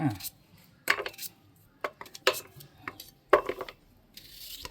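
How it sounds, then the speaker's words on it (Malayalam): A knife chops close by on a board, cutting green papaya, with sharp, irregular strikes separated by short pauses. "കപ്പളങ്ങ ഇത് നമ്മളിത് ഇങ്ങനെ അരിഞ്ഞാൽ ഇതുണ്ടോ, മെഴുക്ക് വരട്ടിക്ക് അരിയുന്ന പോലെ"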